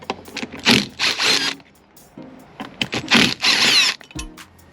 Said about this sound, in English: Go ahead and remove this bracket right here with the two 10mm bolts right here as well.